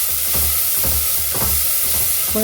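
Onions frying with rock salt in a pan while cooking Tamil-style tomato rice, a steady close sizzle and hiss with a few rhythmic scraping stirs, no voices.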